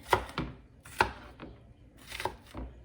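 Knife chopping onion on a cutting board for southern green beans: a few distinct, close, sharp chops spaced irregularly, with no talking.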